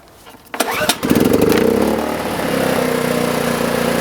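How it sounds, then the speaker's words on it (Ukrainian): A small VOIN petrol generator is restarted after an overload trip: a few pull-cord tugs, then the engine catches and settles into a loud, steady running drone close by. "Виключаємо генератор, вимикаємо всі прилади з нього та перезапускаємо."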